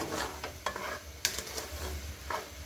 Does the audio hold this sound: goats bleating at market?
no